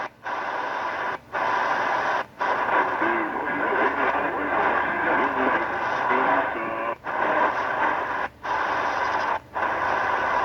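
Shortwave static hiss from a Tecsun PL-330 receiver on an external antenna, a steady broad rush broken by several brief dropouts, with faint garbled station sound buried under it and no nearby talk.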